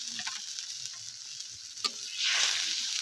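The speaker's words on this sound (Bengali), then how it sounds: "তো এবার আমি জল দিয়ে দিলাম।" Fried spice paste for a pabda fish curry sizzles steadily in the pan, then swells into a louder, hissing burst as water is poured in.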